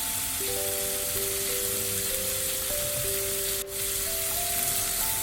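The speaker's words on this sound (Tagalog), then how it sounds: "gently mix it and fry it until golden brown, like this" Canned tuna frying in a pan, a steady close sizzle and crackle running throughout, with a sustained musical tone layered over it.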